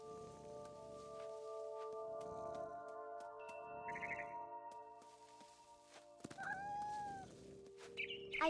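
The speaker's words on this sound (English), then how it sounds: "And suddenly, I was a cat." A cat in the video game What Remains of Edith Finch lets out a brief meow, then a longer rising-falling meow, faint over quiet ambient game music.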